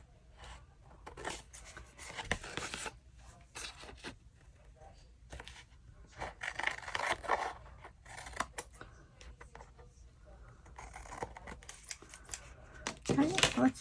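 Scissors snipping through collage paper for journal cards and tags, a run of short crisp cuts and rustles with pauses, close and fairly quiet, with talking between the cuts.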